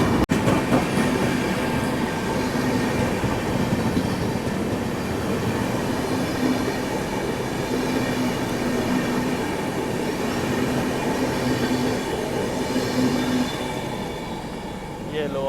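The Sealdah Rajdhani Express runs on a parallel track beside a moving train, a steady loud rumble of wheels with rail clatter and faint squeal throughout.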